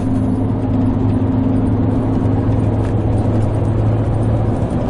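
A car drives a highway road trip east through New Mexico on a drizzly day, giving a steady, close engine drone and road rumble throughout with no pauses.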